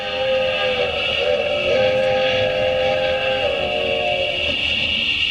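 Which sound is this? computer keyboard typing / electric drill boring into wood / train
train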